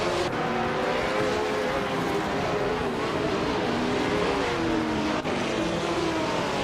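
A field of race cars runs at speed, a steady loud blend of engine drone and revving, with no talk.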